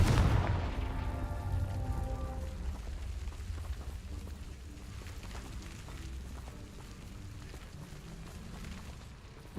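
A Confringo blasting spell in Hogwarts Legacy bursts loudly at the start, followed by ringing tonal tails and a sustained rumbling, crackling wash that lingers for several seconds.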